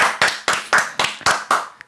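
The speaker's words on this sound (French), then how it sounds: "faites un tonnerre d'applaudissements" A studio audience claps for a guest in sharp, evenly spaced bursts roughly every quarter second, loud and close, like synchronized rhythmic clapping, with no voices.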